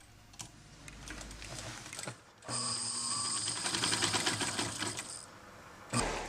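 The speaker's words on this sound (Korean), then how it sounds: "돌아가는 듯한 재봉틀 소리가 늘 정겹기만 합니다." An old sewing machine in a tailor's shop whirs in a fast steady rattle for a few seconds, with softer mechanical clicks before and a sharp knock at the end.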